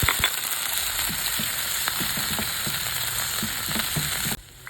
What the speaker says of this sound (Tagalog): So dito, bisa-bisa lang natin at ilagay na natin ang ating pork.